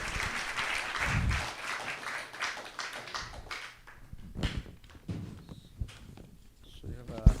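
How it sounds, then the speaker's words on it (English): An audience applauds a lecturer at a Sunday feast gathering, a moderate burst of clapping that fades to scattered claps, taps and footsteps in a hall. "So let's give a big round of applause for Naru Gopal Prabhu."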